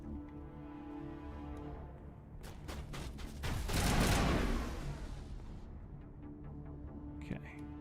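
Gunfire in Mass Effect: a rapid burst of shots builds into a loud, dense volley, then thins out under an ongoing hum, with a voice speaking nearby.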